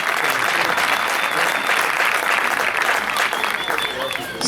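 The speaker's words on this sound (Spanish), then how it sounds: "Fuerte el aplauso, fuerte el aplauso." Crowd applause at a padel exhibition match in Neuquén, loud continuous clapping with cheering voices mixed in, sustained throughout without a break.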